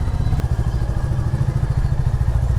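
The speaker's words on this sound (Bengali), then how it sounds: "সাউন্ড কিন্তু ওই রকম কানে লাগতেছে না নর্মালি মনে হইতেছে দেখেন নর্মাল বাইকের মতোই" A Royal Enfield Classic 350 motorcycle engine runs close by with a steady, deep, rhythmic thump at idle, loud and alone without any talking.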